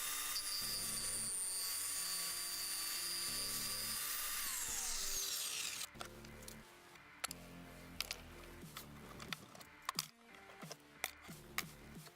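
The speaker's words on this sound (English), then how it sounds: "I am going to plunge the saw through this zero clearance insert" A circular saw mounted under a homemade tablesaw plunges up through a wooden zero clearance insert: a loud steady motor whine for about six seconds, then it winds down into clattering workshop knocks and bumps.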